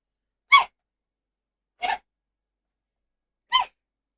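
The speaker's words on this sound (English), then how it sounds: "Okay, I gotta sneeze." Three short, sharp sneezes, evenly spaced about a second and a half apart, each a brief close burst set against silence.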